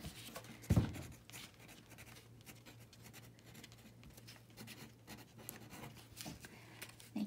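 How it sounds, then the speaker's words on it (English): A pen scratches and scrapes steadily across paper Valentine's Day cards, soft close scribbling strokes with a brief louder knock near the start and a faint steady hum beneath. "So you can write Happy Valentine's Day."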